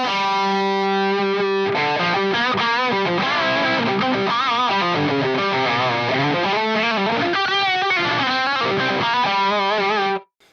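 Distorted electric guitar through an Axe-Fx III with a parametric EQ mid boost, a sustained chord followed by a busy, smooth lead line with bends, loud and close, alone.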